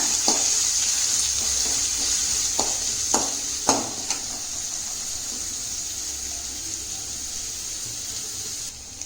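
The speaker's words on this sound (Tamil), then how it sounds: "வெங்காயம் போட்டுட்டு இது நல்லா வதக்கி விடலாங்க" Steady sizzling of onions frying in a hot pan, with occasional scraping stirs and clinks, continuous frying hiss throughout.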